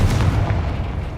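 A heavy booming blast from the Confringo explosive spell in Hogwarts Legacy, one loud deep impact that rolls out into a short rumbling tail, with no voices.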